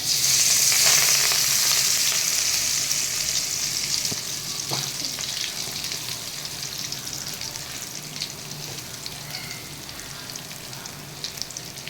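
Ground masala paste hits hot oil in a rasam pan and sizzles loudly at first, then settles into a steady frying crackle and hiss with a few stirring knocks, no voices.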